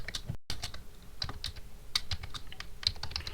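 Keys clatter on a computer keyboard as a name is typed during a Windows XP setup in VirtualBox, an irregular run of close, crisp taps with short pauses.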